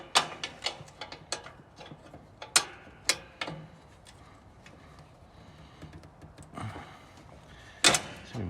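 A Harbor Freight ratchet tightening the brake on a Lawn Chief lawn tractor gives irregular close clicks and metallic ratcheting bursts, with quieter shuffling between them and no talk.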